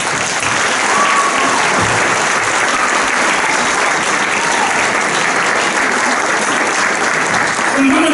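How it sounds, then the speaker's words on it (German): A seated audience at an evening children's prince-couple crowning ceremony applauds loudly and continuously, a dense, even wash of clapping that holds at full strength for the whole stretch. "Euer Applaus."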